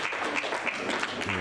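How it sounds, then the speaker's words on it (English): Audience clapping after a shot at a pool world championship final, a soft ripple of scattered claps throughout, with a commentator starting to speak at the end. "ripple applause in the audience"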